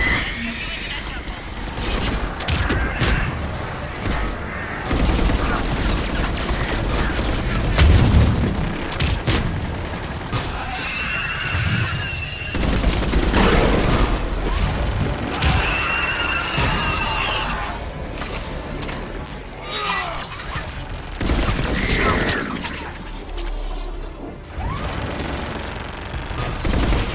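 Missile strikes and bursts of gunfire in a Mass Effect 3 battle on the Asari homeworld, loud, dense and continuous with heavy booms mixed in, while voices talk over the fighting throughout.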